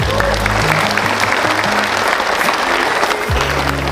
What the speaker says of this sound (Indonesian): Kita ucapkan terima kasih pada jajaran Rindam 3 Siliwangi. Tepuk tangan.